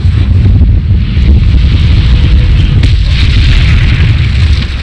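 Incendio fire spell cast in the Hogwarts Legacy video game, a loud sustained roaring whoosh of flame with rumbling low end, steady throughout with a slight surge midway.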